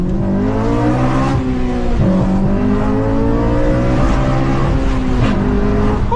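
A Honda engine with VTEC revs hard through the crossover, the loud, sustained engine note climbing in pitch, dropping at shifts and climbing again, with no talk over it.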